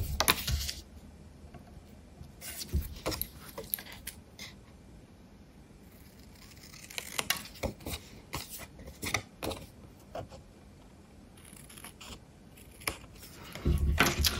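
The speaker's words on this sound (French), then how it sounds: "Et couper ici ce qui dépasse." Scissors snipping paper during a 3D paper diamond craft, sharp crisp cuts in irregular clusters separated by quiet pauses, close-up, with light rustling and handling of the paper between cuts.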